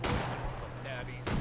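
Gunfire in a video game: a few sharp, fairly faint shots crack out, one at the start and another near the end, separated by a quieter stretch.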